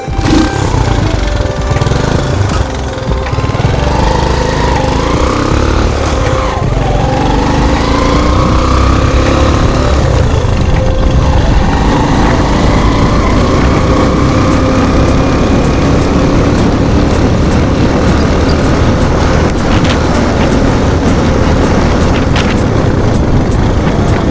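A motorbike engine drones loudly and continuously close by, its pitch rising and falling as it revs, with heavy wind rumble throughout.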